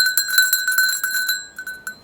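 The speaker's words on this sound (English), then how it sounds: "I have this cowbell from Switzerland, and it makes quite a nice sound" A Swiss cowbell carried as a bear bell on a hike in Japan jangles in quick, uneven clanks with bright metallic overtones, close and clear, with a couple of lone rings as the swinging slows.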